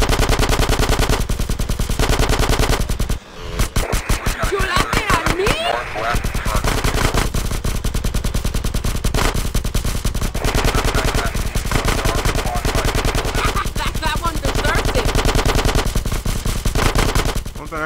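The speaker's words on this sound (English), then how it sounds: "I can tell you, just keep shooting. I just shot all my ammo out." Sustained automatic gunfire from a machine gun in the video game GTA San Andreas, loud, rapid and close, with short pauses and bursts over about eighteen seconds and other game sounds mixed in.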